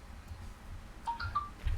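Faint electronic phone beeps, a few short rising tones close together, heard quietly over a low background hum with no speech.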